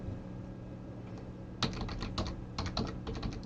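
A username is typed on a computer keyboard: after a quiet stretch of background hum, a quick run of close, crisp key clicks follows in uneven bursts.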